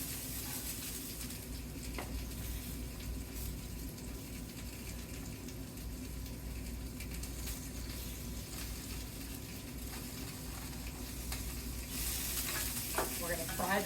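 Onion frying in reserved bacon grease, a continuous hissing sizzle held at an even level throughout, with a few soft stirring knocks near the end, fairly quiet and without speech.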